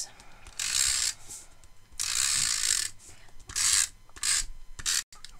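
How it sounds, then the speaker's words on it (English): A snail tape runner is drawn over the back of scored A4 card stock, giving several short, dry ratcheting rasps in quick bursts, close and fairly quiet, with no talking. "So I'm just going to run some snail over the back of this."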